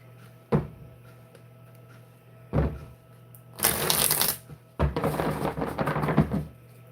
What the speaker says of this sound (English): getting into a deep shuffle here for Scorpio